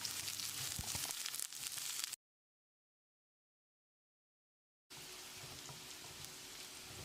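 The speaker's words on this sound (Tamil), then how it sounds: "நம்ம நறுக்கி வச்சுருந்த பாவக்காயை போட்டு அளவான தீயிலேயே ஒரு 2-3 நிமிஷம் நல்லா வதக்கிடலாம்." Chopped bitter gourd sizzles in a spoonful of hot oil in a pan over medium heat, giving a steady hissing crackle that cuts to silence for a few seconds and then resumes.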